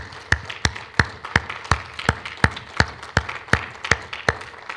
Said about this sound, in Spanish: ¿Le puede dar un fuerte aplauso al Señor en esta tarde, hermano?